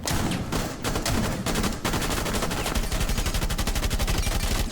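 Rapid automatic gunfire from Rainbow Six Siege, fired at glass, loud and continuous with a few brief gaps, then a steady fast rattle of shots.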